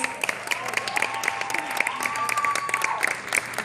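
Art students in an audience at an arts award event cheer and clap steadily throughout, with scattered whoops and a few sustained shouted voices rising above the noise.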